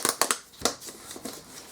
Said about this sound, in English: Take that bit of tape off, or just do something with it.